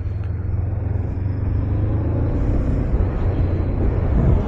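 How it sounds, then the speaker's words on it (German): A Honda CL500 motorcycle with its standard exhaust runs as a steady, loud engine rumble that holds close and continuous throughout, with a low throbbing tone and no talk over it. "Das ist eigentlich der Standard-Auspuff, aber tönt nicht schlecht."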